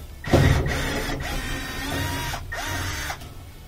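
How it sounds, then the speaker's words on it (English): A powered screwdriver backs out the Phillips head screws holding the gas pipe on an LG gas dryer, whirring in short bursts with brief pauses between them, close and fairly loud. "We're going to remove these two Phillips head screws. These are holding the gas pipe on."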